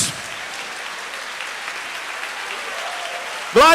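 A church congregation applauds in a steady, even patter at a Lord's Supper celebration, cut off at the end by a sudden loud burst of sound.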